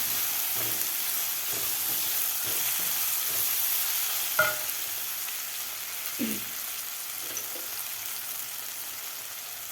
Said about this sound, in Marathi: व्यवस्थित आपल्याला मिक्स करून घ्यायचं आहे